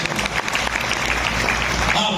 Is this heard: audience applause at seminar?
yes